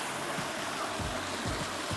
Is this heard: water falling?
yes